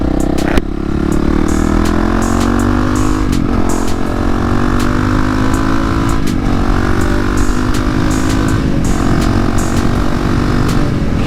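A Honda CRF450L supermoto engine drones loudly while riding, steady and close with rising pitch through each gear, followed by shifts and pulls again in a repeating pattern, with wind noise and no speech.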